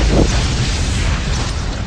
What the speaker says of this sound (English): In this video, we will be deleting Mini City using an orbital nuke.